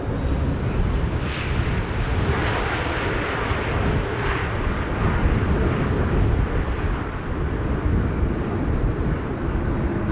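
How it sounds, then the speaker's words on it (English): A JetBlue airliner arriving from Boston lands on a windy day at Amsterdam Schiphol. Its engines give a loud, continuous broadband roar that holds steady throughout, with gusty wind noise mixed in and no voices. "Let's quickly look at JetBlue's landing, arriving from Boston, Massachusetts."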